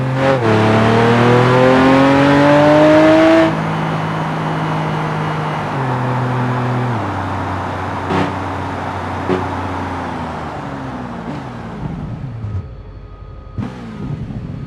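A car in the BeamNG driving game runs a brake test, its engine droning loud and steady before the pitch drops sharply under braking, then winding down through lower gears with faint tire noise, no voices.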